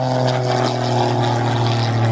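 A Pitts S-2S aerobatic biplane with a 300-horsepower six-cylinder engine drones loudly with a steady propeller buzz as it tumbles through aerobatics, sustained and near throughout.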